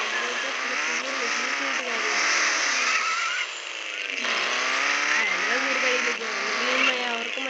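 A modified motorcycle engine revs loudly and continuously, its pitch climbing and dropping in repeated surges, with voices mixed in.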